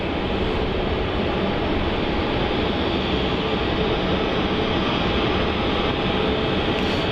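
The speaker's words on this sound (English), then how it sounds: "Got another A321 Neo movement here." An Airbus A321neo moves at Melbourne Airport, its engines producing a loud, steady, broadband roar that holds constant for the whole stretch, with no talk over it.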